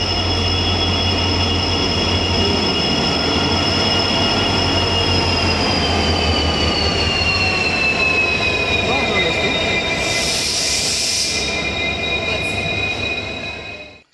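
A train pulls into Karwar railway station with loud, steady rumble and long tonal wheel squeal that slides downward in pitch as it slows, a brief hissing burst near the end, with no talking over it.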